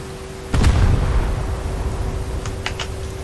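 The main guns of the Japanese battleship IJN Hyuga fire in War Thunder with one sudden heavy boom, followed by a long rumbling decay and a few faint clicks near the end.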